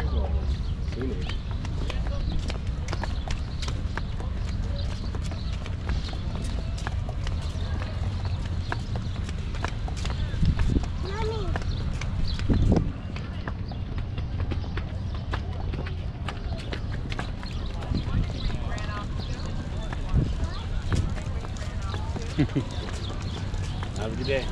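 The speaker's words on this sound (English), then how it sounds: "Miniature horse." Rhythmic hooves of a miniature horse clip-clopping on a hard surface in Ventura Harbor, steady and nearby, with people talking at times over the trotting.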